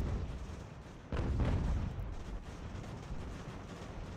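Artillery in an Ultimate General: American Revolution battle lets out a sudden loud boom that rumbles and slowly fades, then a second, softer thud follows amid ongoing low battlefield noise.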